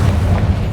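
A Confringo blasting spell from Hogwarts Legacy goes off as a loud, close, deep boom that rumbles for the whole moment.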